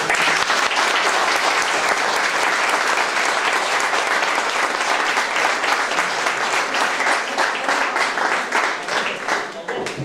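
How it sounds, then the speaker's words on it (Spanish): Audience at a spiritist centre event in Igualada applauding the presenters, loud, dense, sustained clapping lasting throughout and tapering slightly at the end. "un fuerte aplauso para ellos"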